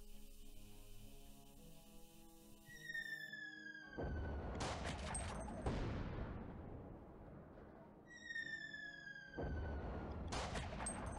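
Two bursts of loud gunfire in the game Guardian Tales crack out several seconds apart, each followed by a rumbling, noisy tail, with tonal game music fading in between.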